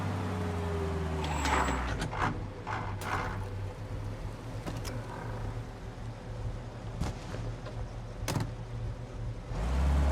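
A taxi pulls up in Mafia: Definitive Edition, its engine rumbling low and steady close by with mechanical clunks and a brief door-like knock near the end, heard without talk.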